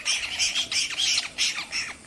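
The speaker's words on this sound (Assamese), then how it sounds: "উৰিষ্যাৰ পৰা অহা পৰ্যটকৰ দলৰ কেমেৰাত আবদ্ধ হ'ল ফেঁচাৰ উৰুলিৰ শব্দ।" Spotted owls call in Kaziranga National Park in the afternoon: a rapid series of about six harsh, screechy squawks in quick bursts, fairly close and clear over quiet surroundings.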